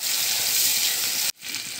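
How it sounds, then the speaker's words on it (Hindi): Onions sizzle steadily in a hot pan as tomatoes go in, a loud broadband frying hiss that abruptly cuts out near the end, then returns more softly, with no talking. "इसमें टमाटर डाल देते हैं"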